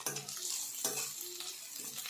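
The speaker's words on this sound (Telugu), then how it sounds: "ఆనియన్ 5 నిమిషాల పాటు వేగిన తర్వాత అందులో పచ్చిమిర్చి వేసుకొని బాగా కలపాలి." Onions and lengthwise-sliced green chillies fry in a pan for a prawn curry while being stirred, a close steady sizzle broken by a few scraping strokes of the spoon.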